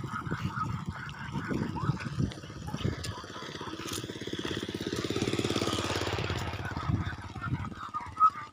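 A motorcycle engine idles and revs nearby in a rural grassfire area, a steady mid-pitched chug that swells and fades over about eight seconds, with brief voices and background noise around it.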